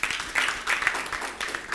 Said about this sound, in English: Joy News Television, a round of applause for them.